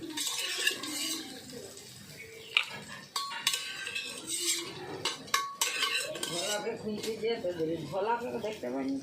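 Boiled mutton is stirred into spice masala in a metal pot for a no-oil Bengali mutton curry, with a spoon repeatedly scraping and clinking against the pot amid soft sizzling. Someone talks over the stirring throughout.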